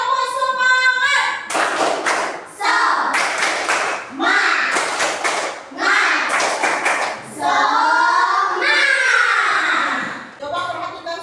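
Pupils in a classroom perform a rhythmic spirit clap, sharp bursts of patterned hand claps in short groups, alternating with children chanting and a teacher's voice between the clapping.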